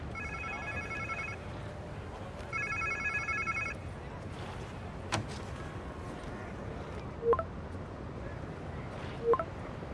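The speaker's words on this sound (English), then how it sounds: "Sounds like somebody's phone." A cell phone rings in the Marvel's Spider-Man 2 video game, two bursts of a repeating electronic ring tone over a steady ambient game bed, followed by a few sharp clicks and thumps.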